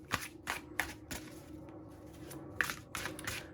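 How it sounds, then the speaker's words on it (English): A tarot card deck is riffle shuffled close up in a quiet room, with several quick, crisp bursts of fluttering card snaps separated by short pauses. "even though I'm riffle shuffling it"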